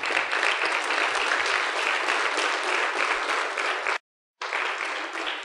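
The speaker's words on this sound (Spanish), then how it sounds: "Aplaudan al Señor," A church congregation applauds at a Spanish-language conference, with dense continuous clapping that fills the space, broken by a brief gap of silence before it resumes.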